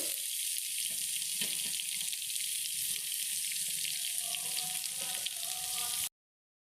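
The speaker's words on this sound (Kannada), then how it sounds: "ಈಗ ಈರುಳ್ಳಿನ ಸೇರಿಸ್ಕೊಳ್ಳೋಣ" Onions frying in a pan for natti-style chicken sambar, a constant loud hissing sizzle with faint stirring clinks, steady throughout before cutting off abruptly; no talk.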